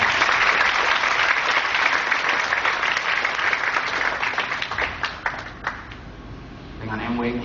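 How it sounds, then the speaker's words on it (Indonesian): A seminar audience applauds its leaders with dense, loud clapping from a large crowd, sustained for several seconds before thinning out and fading. "Ya, aplaus untuk leader-leader Anda."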